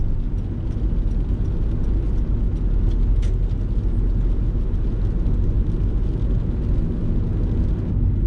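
A car drives straight ahead on the road, heard from inside as a steady, loud low rumble of engine and tyres, with no voices.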